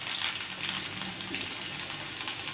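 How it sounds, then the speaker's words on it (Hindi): Chopped garlic sizzles in hot oil with fenugreek and cumin, a steady close crackling hiss that runs without a break and with no one talking. "अब हम इसमें डाल देते हैं लहसुन कटे हुए"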